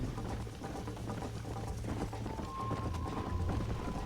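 Hooves clip-clop in a quick galloping rhythm as a horse runs in Red Dead Redemption 2, steady and fairly close, with faint game ambience and no clear talk.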